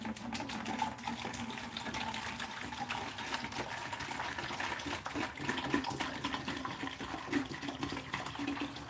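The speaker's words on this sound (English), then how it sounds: "this is my dechlorinated tap water" Dechlorinated tap water pours steadily into a container for a garden setup, making a continuous close splashing gush with no talk.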